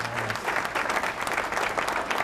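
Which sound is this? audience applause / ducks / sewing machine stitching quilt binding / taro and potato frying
audience applause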